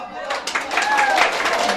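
Clapping and cheering greet the couple at a Kazakh wedding celebration in Uchkuduk. The burst is brief and swells into a crowd's applause, with voices calling out over it.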